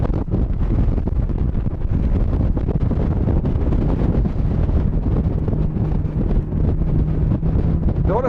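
A Barletta L25UC pontoon boat with a 400 HP Mercury outboard runs at about 50 mph over waves, a constant loud roar of wind buffeting over a low engine and water rumble.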